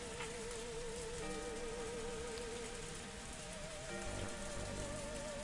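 Rain falling in a forest, a dense steady hiss of drops on leaves and ground, continuous and even throughout with no voices.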